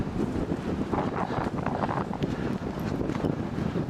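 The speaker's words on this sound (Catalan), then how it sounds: "Encara el vent." Wind on Matagalls mountain buffets the microphone in a steady, loud, rough roar with gusty surges throughout.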